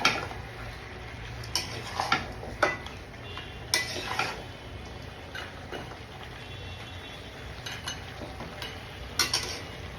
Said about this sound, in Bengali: আমি এইভাবেই কিছুক্ষণ নাড়ি আর একটু একটু করে তেলের সাথে মাখতে দিই